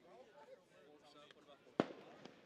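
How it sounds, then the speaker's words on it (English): Fireworks at a baseball game, mostly a single sharp bang near the end with a smaller pop after, faint crackle earlier, under steady crowd noise and announcer talk. "Fireworks going off."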